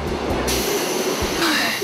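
A Seoul subway train rumbling along the tracks, a steady mechanical drone with a brief squeal of wheels near the end, heard from inside the carriage.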